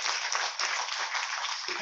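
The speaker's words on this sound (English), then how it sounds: "A loud round of applause for Ashwin Deshpande." Audience applause at a school's annual prize distribution, a dense continuous clapping that fills the room evenly for the whole short span.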